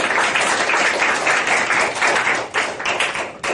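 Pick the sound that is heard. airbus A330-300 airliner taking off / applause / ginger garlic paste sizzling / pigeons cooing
applause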